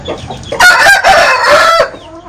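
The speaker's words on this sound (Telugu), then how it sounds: "సో ఇవన్నీ పందెం పుంజులు అన్నమాట." Fighting roosters give a loud, close crow that breaks into clucking, one sustained call lasting about a second and a half in a farmyard.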